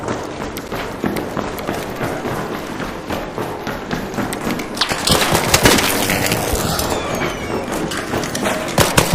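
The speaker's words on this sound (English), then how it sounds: "I hear people running up." Footsteps of people running in a shooter video game, a rapid, continuous patter mixed with sharp cracks and gunfire-like bangs in a busy, noisy game scene, with no clear speech.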